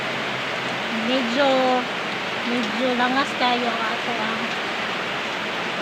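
Steady rain falls outside as a broad hiss throughout, with a person speaking over it at close range.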